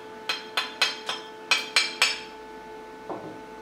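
Slag from a coated stick-electrode weld is chipped off with seven sharp metallic taps in quick irregular succession, each ringing briefly, followed by a softer scrape after a pause.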